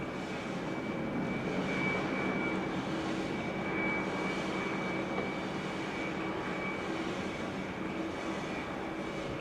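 An EasyJet Airbus A320 on approach to Amsterdam Schiphol produces a steady, loud jet engine roar with a constant whine, sustained without pause.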